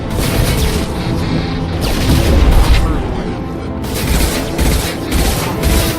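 Rapid gunfire in the video game Mass Effect 2, with loud sustained bursts and booming impacts from a firefight, mixed with in-game voices calling out combat alerts.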